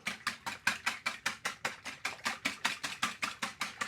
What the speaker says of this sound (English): What I'm going to do now is whisk these up